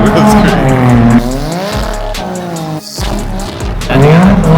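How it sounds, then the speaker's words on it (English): High-horsepower car spinning its tires into loud, sustained squeal with smoke, the engine note rising and falling as the wheels cook, close and dominant with brief gaps. "That thing has a lot of power. That's why the tire's just cooking."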